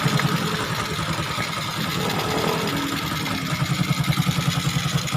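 A Honda XRM125 motorcycle engine idles after a top overhaul, a steady close mechanical putter with ticking clatter and a rhythmic pulsing that grows more pronounced toward the end, alone without talk.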